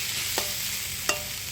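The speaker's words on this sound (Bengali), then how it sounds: "আবার কিছুক্ষণ নেড়ে নেব।" A spoon stirs watermelon rind curry frying in a pan, with three quick scraping strokes over a constant soft sizzle.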